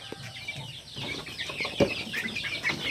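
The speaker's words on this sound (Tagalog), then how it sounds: "So yung mga sisiw natin, ito 3 months na to." Three-month-old chicks on a backyard poultry farm make scattered soft clucks and chirps, with a brief louder call near the middle over faint rustling and low background noise.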